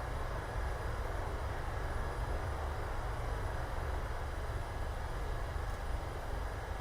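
A PMDG Boeing 737 in Microsoft Flight Simulator deploys its thrust reversers after touchdown, landing at Portland, making a loud, steady, broadband roar that holds evenly throughout with no talking.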